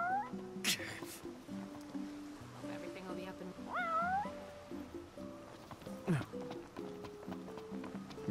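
A cat meows in the video game Final Fantasy XV, a few rising mewing calls over a stepped musical background, with light footsteps and speaking voices around them.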